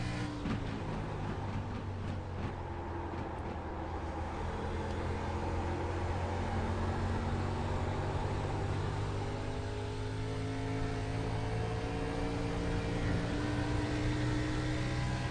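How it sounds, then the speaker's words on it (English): Stock cars racing in a Midwest Winston Cup Series event, engines droning steadily with layered, shifting tones as they slide through the turns, a continuous loud roar heard alone. "You can hear the cars sliding quite a bit in the turns."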